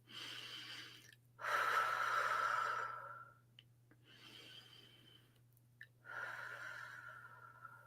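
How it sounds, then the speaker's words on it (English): Slow, deep breaths during a calm guided breathing exercise, close and soft, each long airy inhale or exhale separated by brief pauses, with a faint steady hum underneath. "Take 3 deep breaths."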